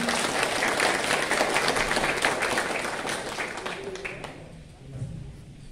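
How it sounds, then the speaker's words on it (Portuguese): Audience applause at a community event in Adamantina, a dense wash of clapping that fills the room, then thins and tapers away near the end. "Aplausinho, né?"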